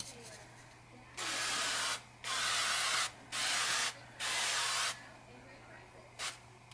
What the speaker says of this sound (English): I'm going to hit it with a little coconut spray